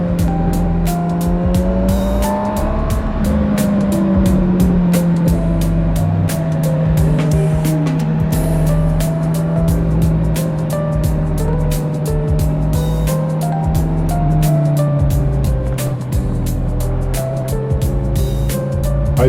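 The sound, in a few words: Honda CB1000R Black Edition motorcycle engine exhaust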